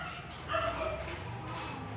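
A dog near a house under construction gives a short bark or yip partway through, set against a steady low background hum.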